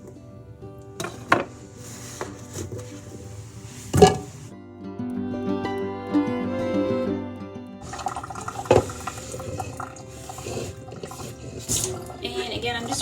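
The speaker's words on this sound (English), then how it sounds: "rinsing my cutting board with water because all it had on it was vegetables" Running kitchen tap water splashes over a cutting board that held vegetables, with uneven gushing and knocks while a person talks throughout.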